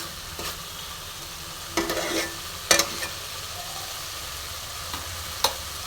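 Spice paste sizzles and is stirred in oil for a homestyle okra and egg curry, with a steady low frying hiss broken by a few sharp spoon scrapes against the pan, no talking.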